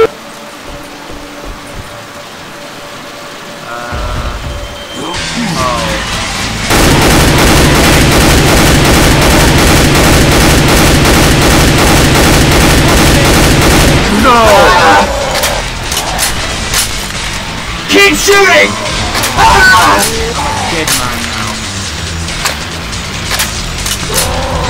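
Sustained automatic gunfire in Left 4 Dead 2 on a foggy, rainy map, a loud dense stretch of rapid shots over heavy ambient game noise, followed by scattered bursts and players talking.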